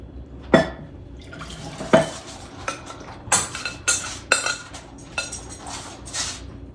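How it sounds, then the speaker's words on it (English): Vegan rice pudding spooned into a baking dish, heard as a series of separate clinks and scrapes of a spoon against the dish with soft wet plops between them, close and clear. "So I'm going to put it in my dish."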